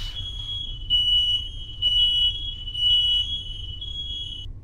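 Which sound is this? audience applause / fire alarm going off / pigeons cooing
fire alarm going off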